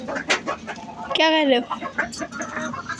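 A hen clucks in a short rising-and-falling burst in the middle, close by, with people talking in Hindi around it and other small household noises.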